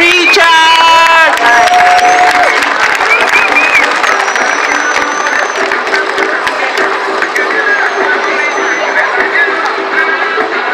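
Spectators at an urban highline competition applaud and cheer loudly and continuously, with crowd voices and scattered whistles mixed into the clapping.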